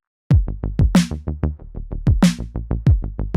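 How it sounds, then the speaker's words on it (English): A dry drum pattern with parallel compression: punchy kicks and snappy hits, each transient followed by a thick, sustained body, in a steady groove after a brief silence. "A popular technique is called parallel compression, and it'll bring out the more subtle parts of the drum"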